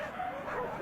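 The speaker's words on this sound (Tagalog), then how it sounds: "Maingay kasi yung aso." A dog yips and whimpers close by in a short, continuous burst, sounding agitated and fairly loud, with no talking over it.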